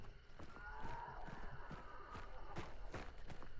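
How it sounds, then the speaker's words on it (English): Rapid clip-clopping horse hooves in a steady galloping rhythm in the video game Hunt: Showdown, mixed with a busy game soundscape and faint background tones. "I'll try to sprint to the horse noises a little bit."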